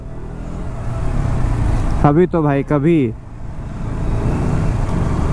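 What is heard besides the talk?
road traffic, cars passing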